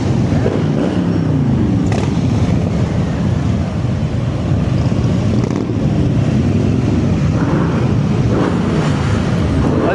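Steady, loud roar of powerful motor vehicles passing along a Swiss roadside, a continuous broadband engine and tyre rumble that swells and fades without pause, with no voices.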